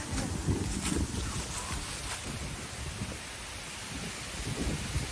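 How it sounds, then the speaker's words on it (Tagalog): Strong typhoon wind roars steadily through trees beside a house, a dense, rumbling rush with gusty swells and no voices. "Grabe ang hangin."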